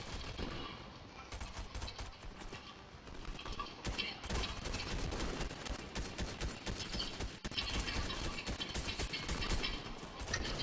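Sustained gunfire from a battle in the video game Fortnite, dense rapid bursts of shots running almost continuously, loud and close.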